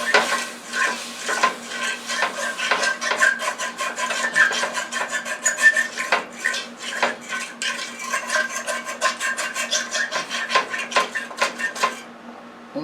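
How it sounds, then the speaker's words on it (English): A fork scrapes across the bottom of a frying pan in quick, rhythmic strokes, a close, continuous metallic rasping and clinking that keeps on for several seconds. "now we're going to take a fork and scrape the bottom"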